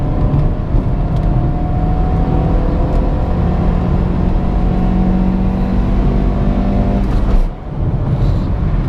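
A JAC J3 Turin with 97,000 km pulls hard in third gear from 80 to 120 km/h, its engine note a loud, steady drone that climbs in pitch, with a brief dip in sound near the end.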